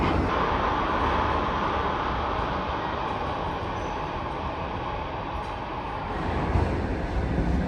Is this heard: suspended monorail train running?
yes